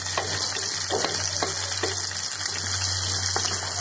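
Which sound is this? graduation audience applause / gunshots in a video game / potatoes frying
potatoes frying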